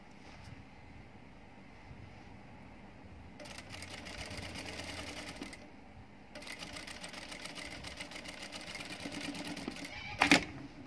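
A sewing machine stitches pleats on an ao dai in two sustained runs close by, each a rapid whirring chatter, separated by a short pause and followed by a brief sharp clack.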